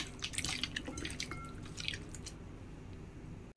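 Warm water is poured over salted, lemon-marinated chicken wings, giving close wet splashes and squishy drips at the start that thin out to a quieter liquid trickle.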